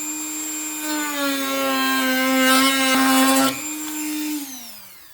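A power tool cuts into the front fender of a Toyota 4Runner, giving a loud, close, whining tone that holds steady for a few seconds, then winds down and fades as the cut ends.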